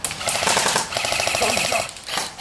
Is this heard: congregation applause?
no